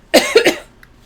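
A single close, loud cough bursts out in a quick run of three or four harsh hacks within half a second, then fades into near quiet at a hobby painting table.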